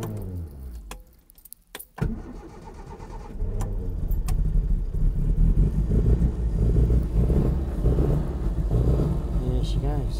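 A classic Mini on choke cranks briefly and catches on a cold start, then settles into a loud, steady, slightly uneven idle close by, with a jangle of keys just before.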